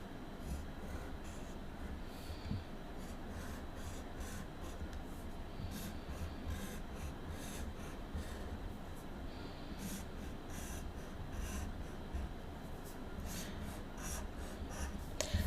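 A pen or marker scratches zigzag lines across paper, a close, quiet, continuous rasping with rhythmic strokes throughout.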